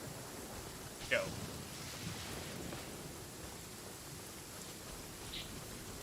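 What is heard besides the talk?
rain in the video game Genshin Impact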